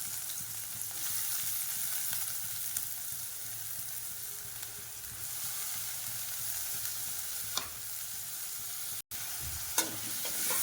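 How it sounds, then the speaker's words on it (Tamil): Steady sizzling of onions frying in a pan, with occasional stirring scrapes, close and continuous, no voices. "இப்போ இந்த வெங்காயத்தை நல்லா வதக்கிக்கலாம்."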